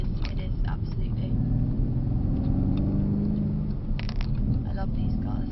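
A Mercedes car rumbles steadily from inside the cabin, with a low engine hum running throughout and people talking over it.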